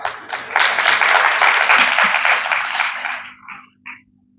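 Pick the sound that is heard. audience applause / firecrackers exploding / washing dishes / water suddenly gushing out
audience applause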